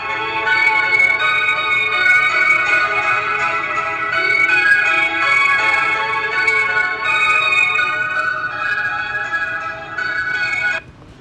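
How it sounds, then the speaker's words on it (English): Sustained synthesized tones with a chorus effect applied, thick and shimmering, ring steadily and loud, then cut off abruptly near the end. "I could put a chorus on here"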